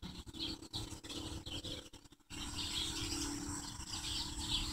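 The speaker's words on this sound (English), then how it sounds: "the birds get buck wild like this." Dense, loud chorus of many birds chirping and tweeting at dusk, continuous throughout with a brief dip partway.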